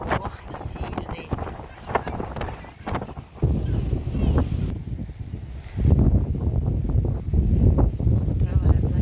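Strong wind buffets the microphone at a seaside park, a continuous loud low rumble with gusts that swell and ease, while people talk nearby.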